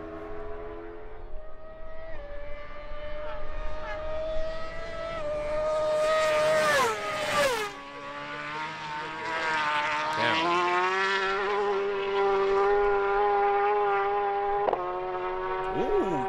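Racing motorcycles at the Isle of Man TT blast past at over 100 mph beside a cliff, loud engine whine rising and falling with pitch sweeps as they pass and shift, under continuous crowd chatter.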